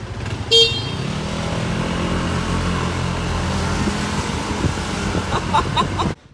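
A rented scooter ridden on the road, its engine droning steadily and close by, with a brief horn-like toot early on and traffic noise throughout.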